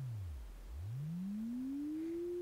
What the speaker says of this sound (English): So now this is what a pure sine wave sounds like.